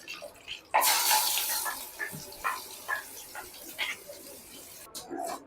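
Water poured from a rinsed mixer jar splashes out in a short pour, followed by scattered drips and small splashes, fairly quiet and close.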